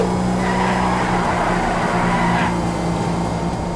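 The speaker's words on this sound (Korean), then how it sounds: "프락셀 밟고 핸들 꺾으셔도 부드러운 코너링이 가능하고요" A Ford Crown Victoria police car corners in the video game GTA 5, its engine holding a loud, steady drone with a faint hint of tire noise and no voices.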